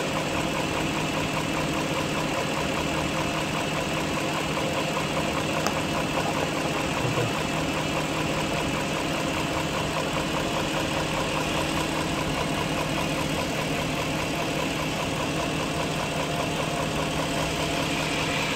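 A BMW 740i V8 engine idles roughly with an uneven, knocking rhythm, steady and close throughout with no talk over it.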